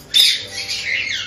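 A pet parrot gives one loud, shrill squawk close by, followed by a softer, wavering screech that trails on for about a second.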